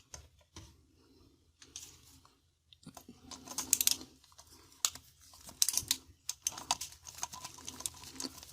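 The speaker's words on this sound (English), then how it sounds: "first I'm going to unscrew." Loose EU wall socket having its two retaining screws undone by hand, giving faint irregular clicks, scrapes and small metallic ticks up close in a quiet room, with soft handling noises between them.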